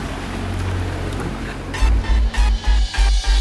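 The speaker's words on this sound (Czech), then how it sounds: "A sedíme tady u kanálu a díváme se na lodičky, jak plujou." Boats travel along a Venice canal, a continuous engine drone and water wash with heavy low rumbling pulses that grow louder toward the end as a vessel passes close by.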